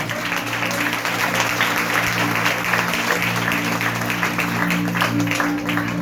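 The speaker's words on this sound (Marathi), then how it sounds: "जोरदार टाळ्या प्रभूच्या गौरवासाठी." Loud, steady applause from a church congregation fills the whole stretch, dense continuous clapping with a constant low hum underneath and no pauses.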